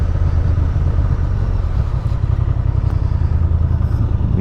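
A Honda XL750R Transalp motorcycle engine running in sport mode while riding, a loud, steady low rumble with continuous wind and road noise and no talking.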